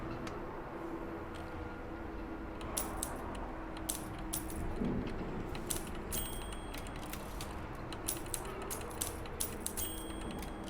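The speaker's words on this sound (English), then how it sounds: "That's an interesting typewriter." A newfangled typewriter clacks in the video game Dishonored 2, bursts of quick sharp key strikes in uneven clusters, fairly faint over a low ambient hum.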